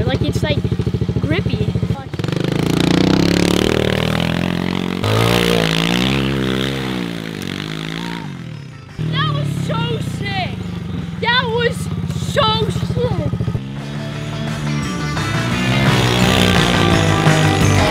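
Motorcycle engines rev and whine loudly during riding, rising and falling in pitch through several surges, with a person talking over the engine noise.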